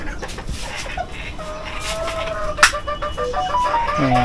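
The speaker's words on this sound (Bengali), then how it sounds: "আজকে আপনাদেরকে দেখাবো আমার ছোট্ট দেশি মুরগির খামার" Native desi hens on a small backyard poultry farm cluck in short, irregular calls nearby, with a louder squawk near the middle and more clucking toward the end.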